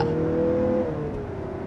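A 2023 Mazda CX-50 accelerating hard during enthusiastic driving, its engine a steady, loud drone that climbs slightly in pitch before easing, heard from inside with no talking.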